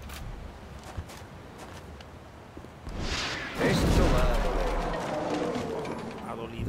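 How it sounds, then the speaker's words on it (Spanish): In a video game, a deep, rumbling rocket blast bursts in partway through, followed by a sustained roar and hiss that slowly fades under faint background noise. "Cohete fuera."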